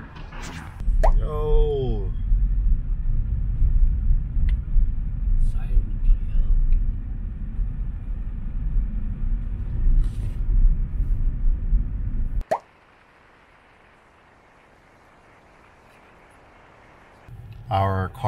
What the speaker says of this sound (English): Our car got stuck trying to go up the hill, so Luca is looking for like a video to help